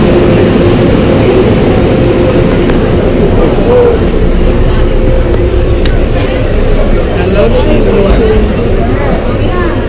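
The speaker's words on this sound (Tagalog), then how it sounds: "Disney train." A Disney theme park train in Hong Kong passes with a loud, steady rumbling roar that holds throughout, while people talk nearby.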